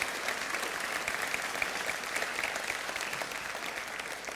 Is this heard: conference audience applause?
yes